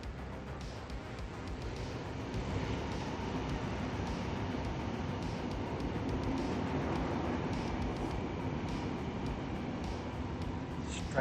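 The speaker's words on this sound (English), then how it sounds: "Train going by" A train rumbles past steadily among big city buildings, a dense continuous roar holding a fairly even level throughout with no voices over it.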